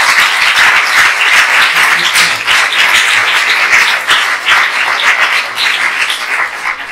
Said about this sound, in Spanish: os pido un aplauso muy fuerte para el filósofo